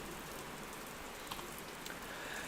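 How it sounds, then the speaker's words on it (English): Rain falling outdoors as a steady, soft broadband hiss with a few faint drop patters, fairly quiet and even throughout, with no voices. "Okay, the rain isn't too loud, I hope. Wow, it's getting louder."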